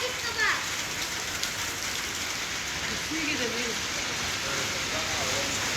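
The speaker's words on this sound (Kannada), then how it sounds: "ಮಳೆ ಬರ್ತಿದೆ." Steady rain falls during a family trip in Goa near a pool, a continuous even hiss close by, with faint voices briefly in the background.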